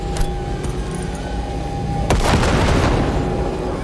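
A frag grenade bursts in Cyberpunk 2077 with a sharp, loud blast about two seconds in, followed by a rumbling, crackling decay, after a few lighter clicks and thuds.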